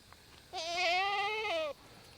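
A young goat gives one clear, drawn-out bleat lasting just over a second, close and moderately loud against quiet farm surroundings.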